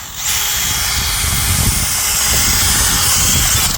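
A loud, steady high-pitched whine of a power drill boring through a fabricated starter recoil cover for a 1982 Honda 185S ATC trike, running continuously for a few seconds.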